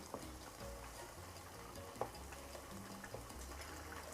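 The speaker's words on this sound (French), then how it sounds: "Là, j'essaie de bien écraser ma tomate." Tomato crushed and stirred in a pan while cooking a West African bitoto tomato sauce, giving soft, steady squelching and scraping with faint sizzling and a few light clicks of the utensil against the pan, close and quiet.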